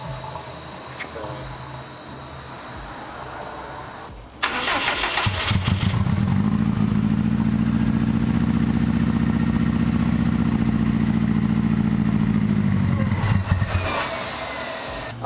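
A Factory Five 818 kit car's engine cranks, catches and settles into a loud, steady idle that holds for several seconds before faltering and fading toward the end, with quieter shop noise before it fires.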